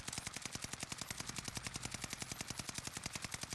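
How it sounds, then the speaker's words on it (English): Rapid automatic fire from a KG M40 rifle in a first-person shooter game, a fast, evenly spaced burst of sharp shots continuing without pause. "This is the regular recoil of the gun."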